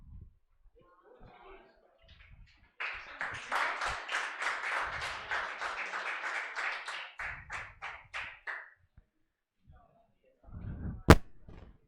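One person claps in a steady run of quick, close claps lasting about six seconds during an online business studies class, with brief voice sounds before and after.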